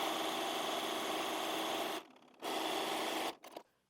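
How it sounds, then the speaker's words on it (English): A sewing machine runs steadily while stitching down the side of a fabric tie. The close, even mechanical whir stops briefly, restarts, and then ends in a few short bursts. "While I'm at the machine, I'm just going to sew down the side of my tie as well."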